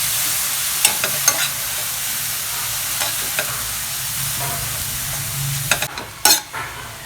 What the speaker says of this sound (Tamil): போட்டு கொஞ்சம் நல்லா வதக்கிக்குவோம்.